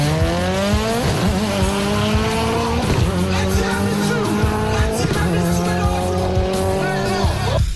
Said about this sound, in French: Et toujours ce scénario de crissement de pneus,